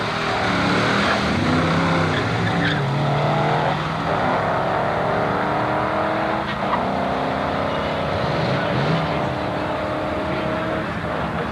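Smoking 1957 Chevy drag car at an antique drag meet at Carlsbad Raceway, its engine roaring loudly and rising through gears as it races down the strip, sustained and close.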